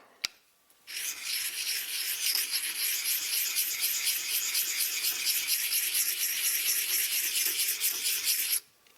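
An axe is rubbed on a cheap two-sided sharpening stone in steady back-and-forth strokes, a close, loud and continuous gritty rasp that lasts about eight seconds and then stops abruptly.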